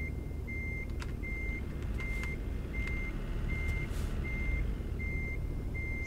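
Reversing beeps from a truck in American Truck Simulator: a steady series of seven evenly spaced electronic beeps over a continuous low engine rumble, clear and unbroken, with no one talking.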